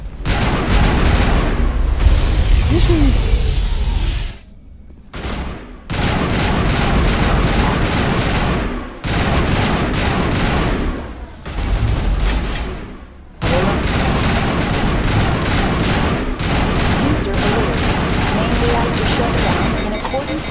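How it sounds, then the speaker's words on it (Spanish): Rapid bursts of automatic gunfire in Mass Effect: Legendary Edition rattle loudly and almost continuously, broken by brief pauses, with sharp, dense shots typical of game combat. "Y disparos."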